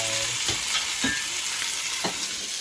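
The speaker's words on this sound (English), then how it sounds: "I'm going to put it on the grill here." An oil-basted steak sizzling on a hot grill, a steady close hiss with a few soft clanks and scrapes on top.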